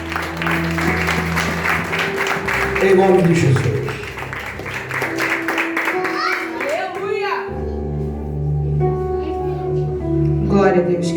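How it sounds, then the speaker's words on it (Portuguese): A church congregation claps along amid sustained musical tones, with a voice speaking over the applause at moments as the clapping swells and eases. "com uma grande salva de palmas."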